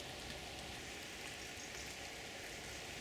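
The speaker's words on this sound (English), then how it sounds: "It's turned to rain, so I don't think the snow will last very long." Rain falling on a November allotment after snow, a continuous, even hiss of drops on surfaces, steady and moderately quiet with no voices.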